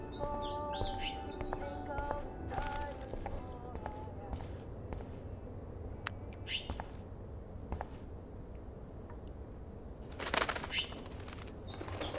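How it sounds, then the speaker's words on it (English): A trapped bird in the Life Is Strange video game chirps in short bursts and flaps its wings indoors, with a few sharp flutters standing out over steady low background ambience. "that poor little bird has been trapped in here"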